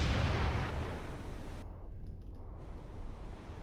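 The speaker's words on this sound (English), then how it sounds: "So it actually fired in the guns." Naval guns fire in the War on the Sea video game, a heavy booming blast that rolls away into a long low rumble with a sea-like wash underneath.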